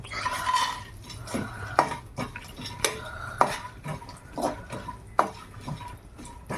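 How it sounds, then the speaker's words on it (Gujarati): Almonds roasting in two spoons of ghee in a pan, stirred with a metal spatula that scrapes and clinks against the pan in irregular sharp taps over a soft background, with no talking. "પેનમાં 2 ચમચી ઘી નાખી હવે આપણે પહેલાં બદામ શેકી લઈએ."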